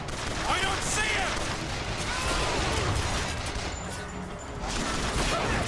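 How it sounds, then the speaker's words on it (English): Continuous gunfire in the video game BioShock Infinite, a dense, steady barrage of shots running through the whole stretch at fairly constant loudness, with a voice reacting over it. "Who's shooting at me of all people?"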